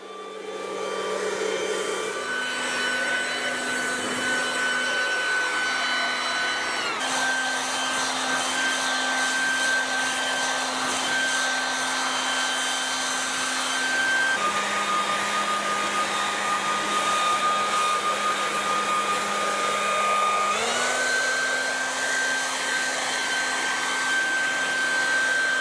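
Ryobi 3000W garden vacuum shredder running continuously, a loud, steady electric motor whine and airflow roar that shifts pitch several times as the load or speed changes, with no talking.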